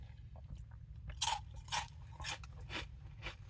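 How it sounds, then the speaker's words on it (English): Crispy chicken bouillon flavored chip, airy with bubbles and not too oily, crunched between the teeth in several sharp bites and chews, close up and quiet. "The chip is very crunchy."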